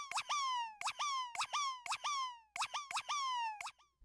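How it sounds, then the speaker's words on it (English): Chopped sample used as top percussion with an oscillating stereo effect and heavy peak reduction: a quiet, rhythmic run of short, bright plopping chirps with falling pitch sweeps, repeating evenly. "the Cable Guy's Pancake just to give it this oscillating stereo effect"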